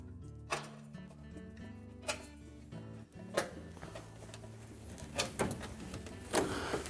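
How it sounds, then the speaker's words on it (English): Old gasket arrowhead fasteners being pulled out of a Whirlpool oven door: several sharp plastic pops and clicks spaced a second or so apart, close and fairly faint over a low background hum. "So we just grasp the gasket on both sides of wherever there is a fastener located and pull it away."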